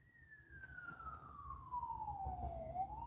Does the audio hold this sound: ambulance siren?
yes